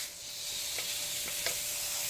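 Ground beef sizzles in hot oil with frying onions and spices, a steady broadband fry hiss with a few soft stirring scrapes, close and moderately loud, no voices.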